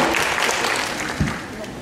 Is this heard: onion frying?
no